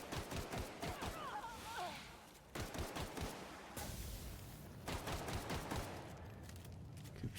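Gunfire in the video game The Outer Worlds: Spacer's Choice Edition, rapid bursts of shots in clusters across several seconds, loud and close with brief gaps and a faint electronic whine between volleys.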